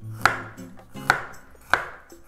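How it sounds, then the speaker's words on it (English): A knife slices garlic cloves on a cutting board, landing three sharp, evenly spaced taps about a second apart, close and clear with no talking. "We're gonna start from slicing the garlic."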